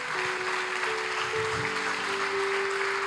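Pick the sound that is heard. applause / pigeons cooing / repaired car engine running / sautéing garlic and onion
applause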